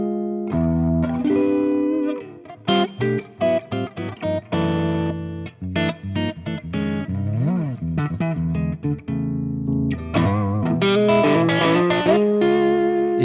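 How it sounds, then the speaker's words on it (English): Electric guitar played through a Fractal FET preamp with a light, slightly distorted color and some chorus-like shimmer, a melodic line of sustained notes and quick phrases with a bend in the middle, alone and up close. "I use the FET preamp only to give a different color, bit distorted,"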